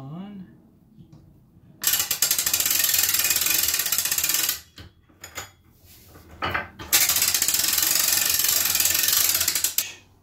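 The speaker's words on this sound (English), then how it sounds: "while I find my wrench. And then we put" A ratcheting wrench tightens a nut on an adjustable bed lift, close and loud, in two long stretches of rapid continuous clicking separated by a brief pause with a few shorter bursts.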